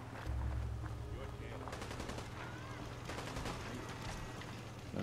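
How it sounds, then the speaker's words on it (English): A turret fires in a Fallout 4 style video game: a rapid burst of machine-gun fire, then a second burst a moment later, heard fairly faintly over the game's low ambient hum. "Is that a turret?"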